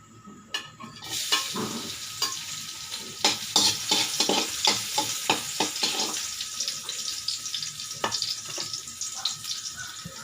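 Garlic dropped into about two spoons of hot oil crackles and sizzles loudly, with a spoon scraping and stirring in quick, uneven strokes against the pan.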